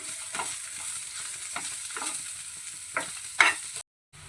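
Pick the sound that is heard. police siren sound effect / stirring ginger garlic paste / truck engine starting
stirring ginger garlic paste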